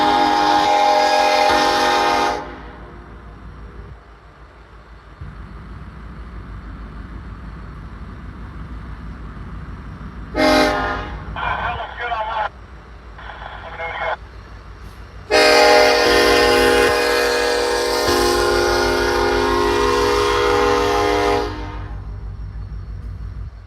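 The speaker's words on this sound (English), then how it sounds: "Not sure what this train number will be, but here it comes." A CPKC freight train passing on a winter night in Ottumwa, Iowa, its horn sounding in long loud blasts near the start, then several short toots, then a sustained blast, all over a steady low rumble of the passing cars.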